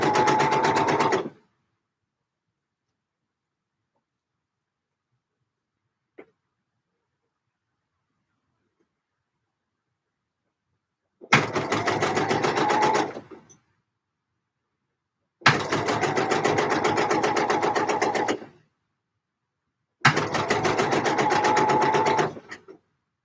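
Sewing machine stitching a curved neckline seam on an Eve dress, running in four separate bursts of rapid even whirring, close and loud, separated by long stretches of silence.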